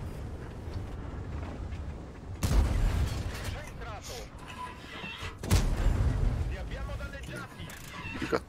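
Two loud tank cannon blasts in the World of Tanks video game, several seconds apart, each a sharp boom with a rumbling tail, set against continuous engine drone and game noise, with some talking.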